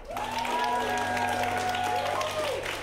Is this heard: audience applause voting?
yes